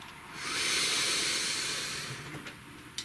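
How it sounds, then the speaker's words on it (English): One long, slow deep breath, drawn close and steady as a soft airy hiss that swells and then fades away, with nothing else around it. "Please take a nice deep breath."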